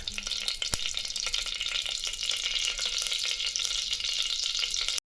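Mustard seeds, a little cumin and urad dal frying in hot oil for sambar, giving a dense, steady crackling sizzle with one sharp pop near the start, close and continuous with no voices.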